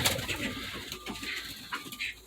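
Pigeons in a loft coo softly and repeatedly at close range, their low burbling calls overlapping against a busy background of rustling and small movements.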